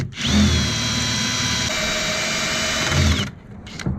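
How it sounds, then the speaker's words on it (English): A power drill drilling out stripped screws on a truck whirs steadily for about three seconds with a high mechanical whine, then spins down and stops. It is loud and close, with no voices. "So I'm just drilling them out."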